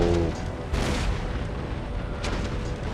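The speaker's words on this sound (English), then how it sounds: "we've got a cannon and one of the howitzers firing to try and destroy the wall" Cannon and howitzer bombardment against a fortress wall in the strategy game Empire: Total War, heavy booming blasts over a constant battlefield rumble, with a strong report near the start and another toward the end.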